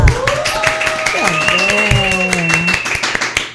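A podcast audience at an autism awareness event applauds in scattered, lively claps while a sustained singing or melodic voice glides over it, the clapping fading toward the end.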